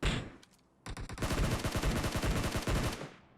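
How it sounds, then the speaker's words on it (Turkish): Gunfire aimed at the player in the battle-royale game PUBG Mobile: a couple of faint early shots, then a long, loud, rapid automatic burst of close shots that trails off at the end. "Oğlum bana kim sıkıyor? Lan nereden sıkıyorsun?"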